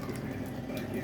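Kitchen tap water runs steadily over strawberries being rinsed, a close, continuous splashing hiss for about a second.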